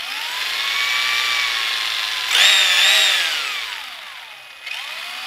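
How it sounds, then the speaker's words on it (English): A Tamiya TT-01E radio-controlled car's differentials and bearings spin up with a loud, high electric whine that rises and falls in pitch, surging sharply mid-clip, then easing off and picking up again. "But the diffs and the bearings sound really nice."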